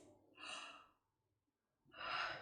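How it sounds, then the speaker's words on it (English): Two quick, big breaths drawn in sharply, each a short airy gasp separated by a pause, close and clear with no talk. "you're going to breathe in like this"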